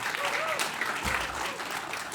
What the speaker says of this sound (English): Yes, perfect timing for applause.